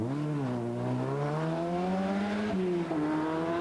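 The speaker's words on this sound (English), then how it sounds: "Bill Connolly's BMW appears to be scrabbling to find some grip on the increasingly slippery stage" A BMW rally car on a slippery stage gives a sustained engine howl with steady, slightly wavering revs as it fights for grip, close and loud, with no talk.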